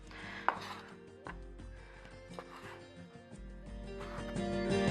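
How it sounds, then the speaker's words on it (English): Knife strokes on a cutting board as a beef chuck roast is cut into bite-sized chunks and trimmed of exterior fat, a few soft irregular thumps and taps at close range with quiet background noise. "as you cut down your roast, you can also do a bit of trimming of the exterior fat"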